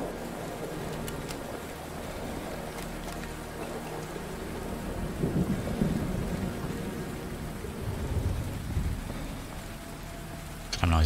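Steady rain falls in the Fallout 4 game world, a constant hiss with low rumbling thunder swelling midway and fading again, a few faint clicks near the start.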